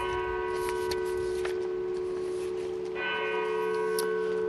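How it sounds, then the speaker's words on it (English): A church bell tolls in Nottingham, single measured strikes ringing out with a long sustained hum between them, moderately distant over a steady background drone. "a church bell tolled"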